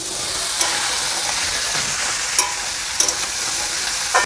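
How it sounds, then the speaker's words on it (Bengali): Bottle gourd and potato pieces fry in hot oil, giving a close, continuous broadband sizzle with a few spatula clicks scattered through, steady and fairly loud with no voices. "লাউ আলুটা আমি ভালো করে ভেজে নিয়েছি"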